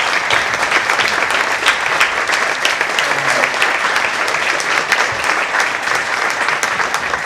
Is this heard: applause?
yes